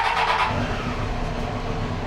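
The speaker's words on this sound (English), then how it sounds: "This is complete cold start. Bike's not warm at all." A Triumph Street Triple 765RS motorcycle on its stock exhaust fires up from a complete cold start, giving a loud, close engine burst that settles into a steady rumbling idle.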